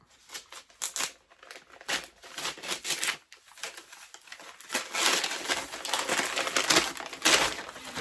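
Paper wrapping on an advent calendar book torn and crinkled open in a series of close, uneven rustling bursts that grow denser and louder toward the end.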